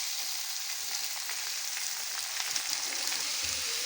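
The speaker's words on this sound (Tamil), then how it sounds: "இப்போ நம்ம கட் பண்ணி வச்சுருக்கிற வெங்காயத்தை சேர்த்துக்கலாம்." Chopped onions hit hot oil with chillies in a pan while making a cassava stir-fry, a dense, steady sizzle close by with light crackling throughout.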